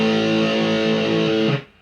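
A distorted electric guitar plays the chords of a song's riff, loud and sustained for about a second and a half before cutting off sharply.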